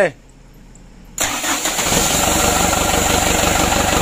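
A Mitsubishi Canter HD 125 PS truck engine starts with a brief cranking whine, then catches about a second in and settles into a loud, steady, close idle with a rough rhythmic rumble.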